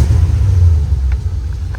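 A car engine revs, producing a loud, close, low rumble that swells briefly and then eases off, with no talking.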